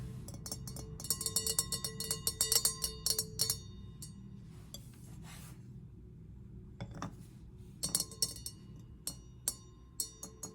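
Clear wine glass holding liquid rings from a series of taps, bright and resonant, in bursts with pauses, some clustered quickly, others spaced apart; no talking.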